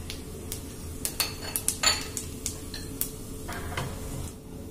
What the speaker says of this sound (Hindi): तेल गरम हो गया है, अब इसमें डालेंगे जीरा।